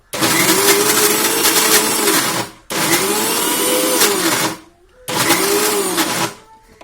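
A kitchen mixer grinder whirs loudly while grinding urad dal batter for vada, running in three steady bursts with brief pauses between, a constant motor hum with no talking.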